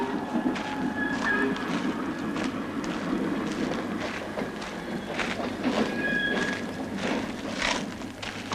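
In 1980s Latvia, a train rolls along the railway where it crosses a long side street. A continuous rumble of wagons carries rhythmic wheel clatter and occasional high squeals, fairly loud and close, with no speech.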